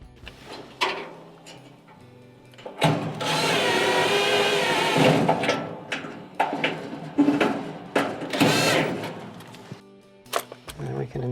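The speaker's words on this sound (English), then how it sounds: "we can install the top 1/4-inch screw and then the lower screw" Screws being driven in while a replacement high-limit thermostat is fitted on a Whirlpool dryer, with a steady stretch of power-tool whirring, scattered metallic clicks and handling clatter, close by.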